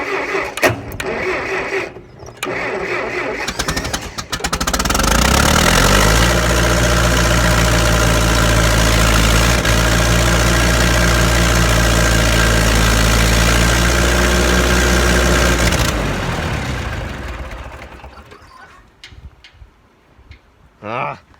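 Massey 50 tractor engine cranks and catches, then settles into a loud, steady low idle for about ten seconds before dying away, with a few faint sounds at the end.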